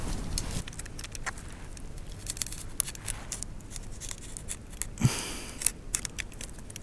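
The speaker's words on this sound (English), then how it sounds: "I'm gonna use my utility knife. Cut out a nice shape here." A utility knife cuts out a shape on a workbench, with scratchy, irregular slicing and scraping strokes close by and no talking.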